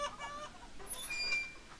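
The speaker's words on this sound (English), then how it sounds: "What's with these chickens?" Chickens clucking in a horror video game, several short, thin clucks and squawks over a soft, faint background.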